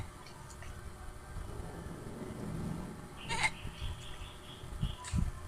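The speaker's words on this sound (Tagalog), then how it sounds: "yung kambing na super cute" Faint goat bleats from a distance over low background rumble, a couple of short cries near the end.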